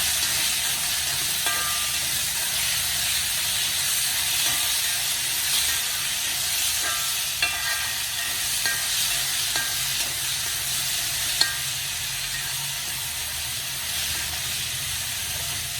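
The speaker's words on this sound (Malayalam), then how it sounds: "നന്നായിട്ടൊന്ന് വഴറ്റിയെടുക്കണം." Onion masala with chopped ginger sautéing in a pan for soybean curry, a steady bright sizzle throughout with occasional soft scrapes of a spoon, close and continuous, no voices.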